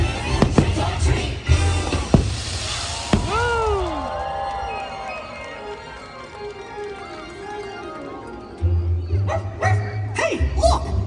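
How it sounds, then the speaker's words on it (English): Ghost dog at a Disney Halloween party show barks and yips in a short run of bright, rising-falling calls mid-clip, with music and crowd sound around it and more lively noise near the end. "Hey, look! A dog! It's a ghost dog!"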